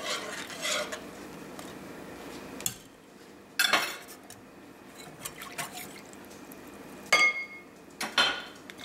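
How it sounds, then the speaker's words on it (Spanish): Masa being added and strained into a pot of boiling chocolate for champurrado: wet drips and soft splashes, with sharp metal clinks of a utensil and strainer against the pot, close and without speech. "Vamos a agregárselo a la olla donde está el chocolate."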